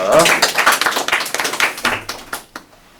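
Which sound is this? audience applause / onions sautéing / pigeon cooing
audience applause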